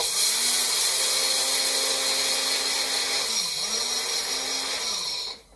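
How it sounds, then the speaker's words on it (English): A small grinder blade attachment pulsing chia seeds into flour, a loud high whirring motor that holds steady, dips briefly between pulses, then cuts off abruptly at the end. "So this has a little grinder blade. I'm gonna put that on top and pulse it in here."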